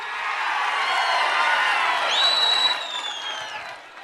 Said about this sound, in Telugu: గట్టిగా చప్పట్లు కూడా చెప్పండి మా ఆడబిడ్డలు.